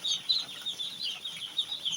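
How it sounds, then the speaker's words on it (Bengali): Farm ducks moving about and calling in the morning, a run of soft, repeated nasal quacks and clucking calls at close range with no talk. "প্রতিদিন হাঁসগুলো সব যথেষ্ট চঞ্চল আছে"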